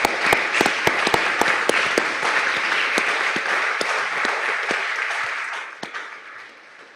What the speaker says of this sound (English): let's give our schools a round of applause for doing a phenomenal job